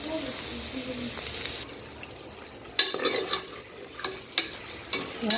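Onions frying in a pan, a steady hiss that cuts off abruptly and gives way to a quieter sizzle punctuated by several stirring scrapes and knocks.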